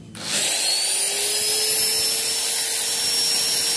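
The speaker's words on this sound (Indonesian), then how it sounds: "langsung kita akan hidupkan gerindanya" An electric angle grinder switches on and runs at full speed, a loud, steady high-pitched whine that rises quickly and holds unbroken, with no voices.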